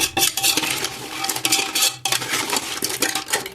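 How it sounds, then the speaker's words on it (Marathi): A metal spoon stirs crab curry in a pot, scraping and clinking against the sides in quick, busy strokes, close and fairly loud, with a short pause midway. "फिरवून घेऊया"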